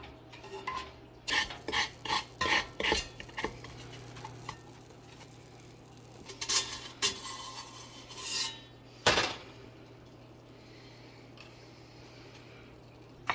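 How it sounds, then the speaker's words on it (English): Coarse sea salt raked and spread across a metal baking pan, a quick run of sharp scraping, clinking strokes near the start, a second burst midway and one more, then quiet room tone. "once you've got it in your pan here, you do just want to spread it out as evenly as you can"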